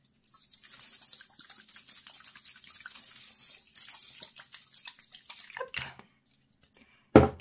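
Water trickles into a paint mixture for a painting. A soft, steady pour drips and splashes for about five seconds, then stops and is followed by a brief louder knock.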